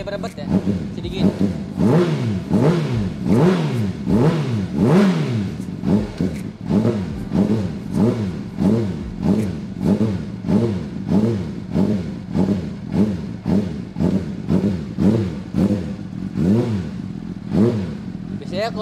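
A modified Honda CBR600 motorcycle engine, warm at about 80 degrees, revs repeatedly in quick rising and falling bursts, loud and close, with a rough rhythmic pulsing that continues throughout.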